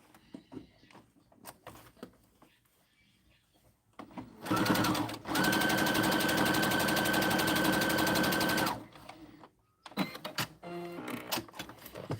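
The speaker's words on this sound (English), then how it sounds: "So we're going to go ahead and use a sewing machine." A sewing machine stitches a Christmas stocking steadily for about four seconds, a fast mechanical whir between quieter handling sounds.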